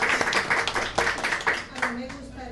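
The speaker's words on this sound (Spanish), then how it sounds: "quiero que también nos demos un aplauso" Audience at a lecture on 'La vorágine' clapping, a short round of applause with distinct claps that thins out, while someone speaks over it.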